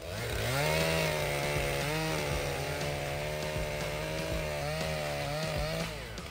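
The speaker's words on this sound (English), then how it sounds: "the Still MS-261 chainsaw with a 28-inch bar is a force to be reckoned with, easily tackling big timber challenges" A Stihl MS-261 chainsaw with a 28-inch bar cutting through big timber, its engine droning loud and steady at high revs, rising and dipping slightly as the chain bites into the wood, with no voices.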